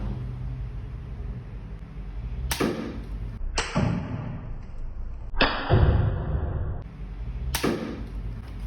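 An 8 mm dart is fired repeatedly at a target about 3 metres away, four sharp loud releases spaced a second or two apart, each followed by a brief hiss and thud, over a steady background rumble.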